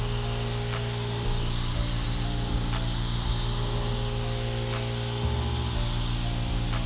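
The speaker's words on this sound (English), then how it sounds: "I'm getting little paint spray all over my glasses." Continuous hissing spray from a paint sprayer over a steady compressor hum, with a few faint clicks and bumps, no speech.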